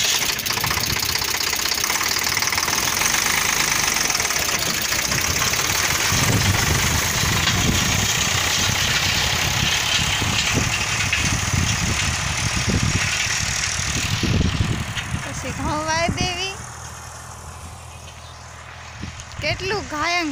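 A tractor engine runs loudly and continuously during a fish harvest, a rough droning rumble with voices heard now and then, easing in the last few seconds.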